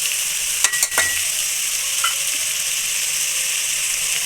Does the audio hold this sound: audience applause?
no